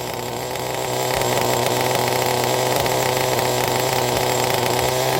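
A CEN Genesis nitro RC truck engine idling high during a heat-cycle break-in, a loud continuous buzzing drone that swells after the first second and then holds steady and close.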